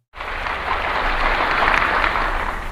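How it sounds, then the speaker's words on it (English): An audience breaks into sustained applause, starting abruptly and holding as a dense, steady wash of clapping through the end, with no talk over it. "Wow, people are applauding."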